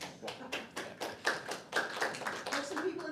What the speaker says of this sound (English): Yeah, well, it got some applause.